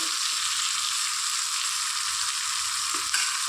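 Ingredients for a kalakkai pickle fry in oil, a steady, dense sizzle heard close and alone throughout.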